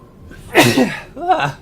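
A single loud, close sneeze bursts out sharply, followed by a short breathy gasp or sniff.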